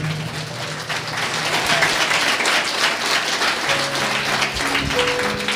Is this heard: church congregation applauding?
yes